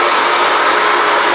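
A golf shaft cutting machine, switched on for trimming iron shafts to length, gives out a loud, steady, high whirring drone close by, with no break across the brief moment.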